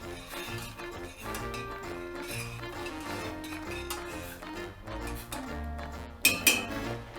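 Metal utensils clink and scrape in a pot of spaghetti sauce with a steady stirring rhythm, fairly quiet, ending in a couple of sharper clanks.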